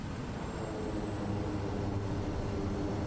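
Reverse thrust on a simulated SWS Kodiak turboprop after touchdown in Microsoft Flight Simulator 2024: a loud, continuous, broadband roar that holds steady throughout, with no talking.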